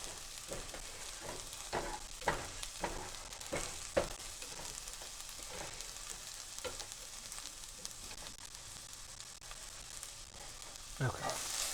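Garlic for vegan pad thai sizzles and fries in a pan, a steady soft crackle with occasional stirring clicks, fairly quiet and close.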